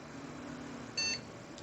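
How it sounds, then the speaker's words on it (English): A motherboard's onboard beep speaker gives one short, clear electronic error beep during a bench test, flagging a video card fault, and a fainter blip follows near the end. Steady background hum runs throughout. "Got one beep, and then 3 other ones. So it's still indicating something's wrong with the video card."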